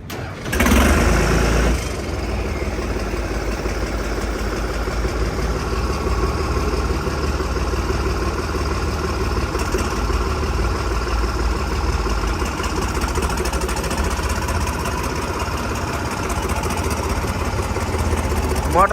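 A bulldozer 3630 engine cranks and catches within the first second, then settles into a loud, steady, rumbling diesel idle that runs on close by.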